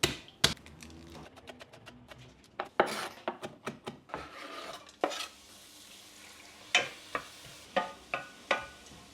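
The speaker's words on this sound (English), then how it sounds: "let's cook up our zucchini and garlic and things like that." Zucchini and garlic cooking in a pan, heard as repeated sharp spatula scrapes and stirring clatters with a light sizzle underneath, close and fairly loud, no talking.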